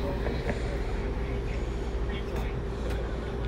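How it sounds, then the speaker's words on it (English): A train runs along railroad tracks some distance below, near a bridge where a rail crew is working, giving a steady, dense rumble that fills the whole stretch without pause. "Oh, there's the train. Right down there."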